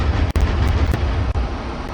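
A MiG-15's cannons fire together in the DCS flight simulator as a dense, continuous roaring barrage with a few sharp breaks, loud and without speech.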